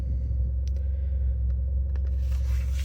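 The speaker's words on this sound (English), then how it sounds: "the revs will sometimes go up" Engine of a Mitsubishi Evo X idling with the brake held during an SST gearbox reteach, its revs climbing on their own; a steady low rumble with faint mechanical ticks, no talking.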